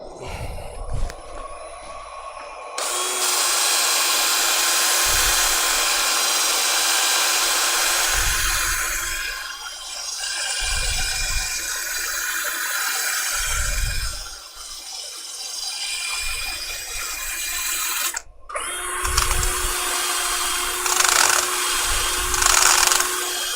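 Woodturning piece spinning on a lathe while sanded up to 400 grit, a loud steady motor whine broken by a brief stop near the end, with rhythmic rubbing swells of abrasive paper against the wood.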